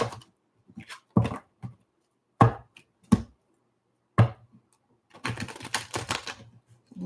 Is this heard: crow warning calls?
no